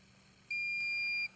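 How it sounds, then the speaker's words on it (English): An AccuProbe IR refrigerant leak detector gives a single sustained electronic beep during warm-up, loud and clear for just under a second before cutting off into quiet room tone. "During warm-up, the AccuProbe IR will beep and the LEDs will scroll from left to right."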